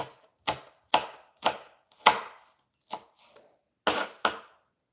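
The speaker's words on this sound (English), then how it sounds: "I chop my onion, I chop my garlic" A knife chops onion and garlic on a cutting board for cabbage soup, giving about nine sharp, close knocks in an uneven rhythm with short quiet gaps between them and no voices.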